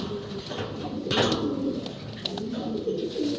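Fancy pigeons, a large pair, coo in soft repeated low throaty calls close by, with occasional brief sharper sounds and faint background voices.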